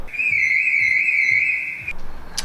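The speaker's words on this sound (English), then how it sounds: "I heard the alarm, the car alarm going off" A BMW E46 being built into a safari car sets off its alarm, a loud high steady electronic tone with a slight warble that cuts off abruptly, followed by a short sharp chirp.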